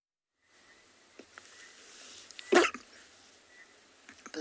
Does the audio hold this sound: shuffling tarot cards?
no